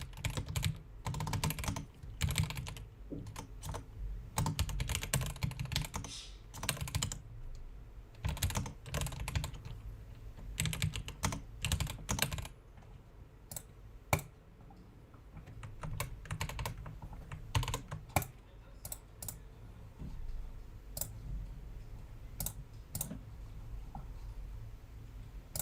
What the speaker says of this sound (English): That's a cool keyboard.